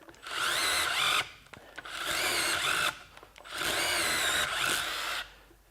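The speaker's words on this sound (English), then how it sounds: "drill us out a hole for the center" A power drill whines in three sustained bursts of several seconds each, boring a center hole in wood with short pauses between runs; no voices.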